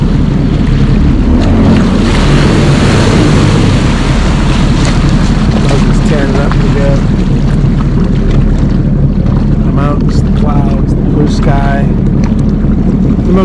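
A jet ski speeding across a mountain lake in Idaho, with loud constant engine roar, wind buffeting and water splashing, while people shout faintly in the background.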